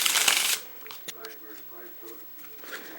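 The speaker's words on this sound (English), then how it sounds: "Shuffle the cards." A DMC Sharks deck of cards is riffled in a quick burst of dense fluttering snaps, then a soft voice speaks briefly over light handling noise.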